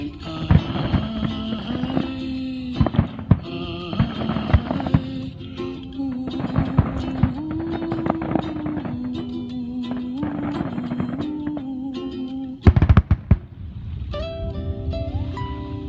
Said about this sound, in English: These brilliant and spectacular fireworks